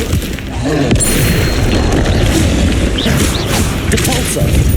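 Spell explosions in Hogwarts Legacy, a run of loud booming blasts and crashing impacts following one another over several seconds, with a voice speaking amid the chaos.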